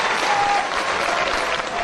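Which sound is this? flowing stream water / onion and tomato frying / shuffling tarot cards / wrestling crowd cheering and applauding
wrestling crowd cheering and applauding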